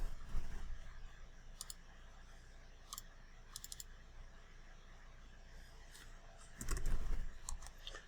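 A few sparse clicks from a computer keyboard as a dimension value is typed, faint and quiet over soft background hiss, with a slightly louder cluster near the end.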